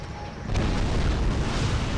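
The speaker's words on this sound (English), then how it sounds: "My Bradleys are actually firing missile all the way over here." In the Wargame European Escalation video game, Bradley TOW missiles fire and hit targets. A loud, sustained rumble of explosions swells in abruptly after a quieter start and keeps roaring to the end.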